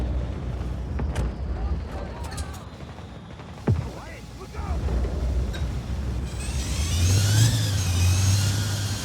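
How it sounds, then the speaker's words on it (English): A car engine starts and revs up in Just Cause 4, a car fitted with spiked wheels, growing louder toward the end, with a sharp thump partway through and voices in the background. "That was the sound of the car starting."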